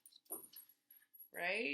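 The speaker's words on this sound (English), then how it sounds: "Oh, that's my dog." A pet dog lets out a short, drawn-out vocal cry close by, following brief bits of a person's speech and a quiet pause.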